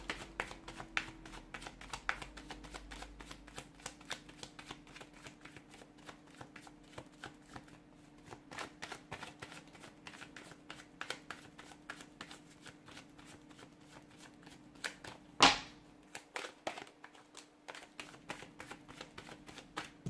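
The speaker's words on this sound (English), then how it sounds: "I've put those cards back in the deck" A deck of tarot cards is shuffled by hand, a steady run of soft, rapid riffling clicks close by at low volume, with one sharper tap near the end and no talking.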